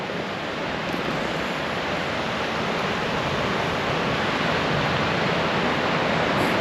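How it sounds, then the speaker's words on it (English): Waterfall on Madeira pouring over a roadway, a dense, unbroken roar of falling water, loud and close, with no voices. "See, the waterfall comes over the roadway, and then you just drive under it."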